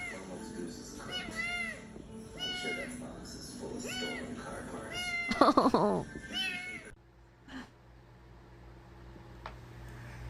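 A brown cat meows repeatedly in close, drawn-out cries over several seconds, with a person talking alongside, before the sound drops to a quiet room hum.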